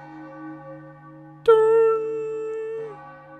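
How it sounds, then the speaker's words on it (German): A single bell-like chime with a bright attack and a sustained, ringing tone sounds for about a second and a half over a soft, steady musical drone, part of the wedding bells at Bowser's moon wedding in the Nintendo Switch game Super Mario Odyssey. "Die Hochzeitsglocken läuten schon."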